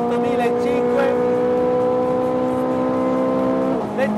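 Ferrari 430 Scuderia engine held at high rpm, a loud, steady, tuneful howl with strong harmonics that holds for nearly four seconds before the pitch dips briefly as a gear changes.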